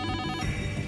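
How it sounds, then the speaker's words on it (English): A telephone bell rings loudly in short repeated bursts, filling the brief moment on its own with no talk over it, in a police investigation setting. "Less than 3 hours later, the phone rings, but it's not the killer."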